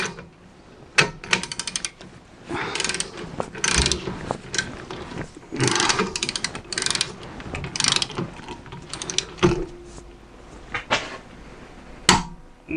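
A ratchet wrench tightening a drum brake nut clicks in quick bursts of rapid ratcheting strokes, separated by short pauses and occasional knocks of metal.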